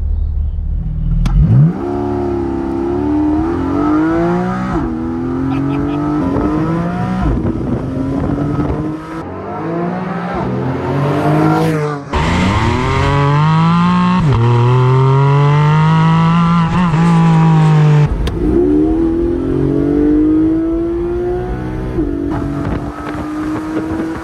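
A Porsche Boxster GTS 4.0 flat-six revs hard through repeated upshifts, each pull rising in pitch before dropping with the next gear, loud and close with wind buffeting throughout.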